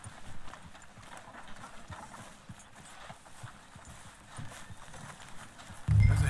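Slow, uneven clip-clop of horse hooves on a hard surface in Red Dead Redemption 2, under a low ambient bed, ending in a sudden louder burst.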